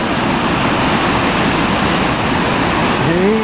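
Broad, steady roar of heavy falling water at Gullfoss waterfall, loud and continuous, with a brief faint voice near the end.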